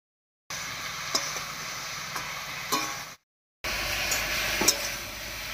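Vegetables fry in a pan while being stirred, giving a steady close sizzling hiss punctuated by occasional light taps and scrapes, with a short silent break midway.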